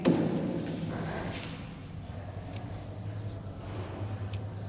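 Marker or chalk writing numbers on a board during a maths lesson, faint scratchy strokes over a steady low room hum, no distinct talking.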